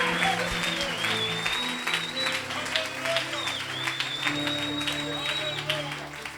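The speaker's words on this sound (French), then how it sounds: "Acclamez pour le Seigneur." A church congregation applauds for the Lord, sustained clapping that carries on steadily under a preacher's amplified voice and soft sustained keyboard music.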